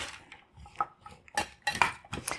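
Sweet potatoes and beets being mixed together in a dish, a series of close clinks and scrapes of a utensil against the bowl in quick irregular strokes, fairly quiet and with no talk.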